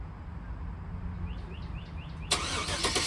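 A 2024 Chevrolet Suburban LTZ, black, engine starting by remote start: a steady low idle rumble, then a brief chirpy electronic tone sequence before the engine catches with a sudden louder broadband surge, nearby with no talking.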